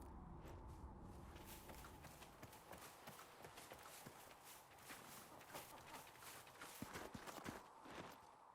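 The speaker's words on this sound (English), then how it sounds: "Sounds like a horse is nearby." Horse hooves clip-clopping at a walk close by in the fantasy video game Dragon Age: Inquisition, a steady uneven patter of footfalls over a dense ambient game soundscape.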